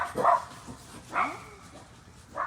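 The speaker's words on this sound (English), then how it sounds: "dogs are active" Dogs bark at night outdoors, three short separate barks spaced about a second apart, moderately close but fairly soft, with quiet background between them.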